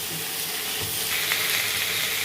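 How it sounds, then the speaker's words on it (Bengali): Steady, close sizzling and hissing from frying in a pan while cooking masoor dal with bottle gourd leaves, continuous with faint stirring and no voices. "এইটাকে দিয়ে এখন একটু ভাজা ভাজা করব।"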